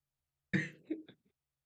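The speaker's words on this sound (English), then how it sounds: "So I'm not coughing the whole show." A single harsh cough followed by a couple of smaller trailing coughs, close and fairly quiet, with silence before and after.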